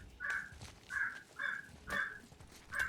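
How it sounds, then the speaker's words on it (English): Crows caw outdoors in a regular series of five harsh calls, evenly spaced about half a second apart, heard at a moderate distance against a quiet background. "And I'm sure you guys can hear our crows. They've suddenly gone crazy outside."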